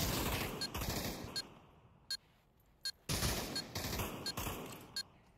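Gunfire in Pavlov VR: loud sustained automatic bursts, a long one opening and another after a short pause, with sharp single shots ringing out in between, close and with no talk.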